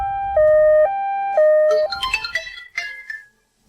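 An ambulance siren sounds loud and close in a steady two-tone wail, then breaks into shifting, warbling tones that fade out, with no talk over it.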